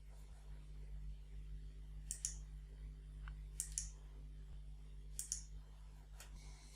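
A computer mouse clicks during PCB design software work, three short paired clicks spaced a second or more apart, quiet and close over a low electrical hum.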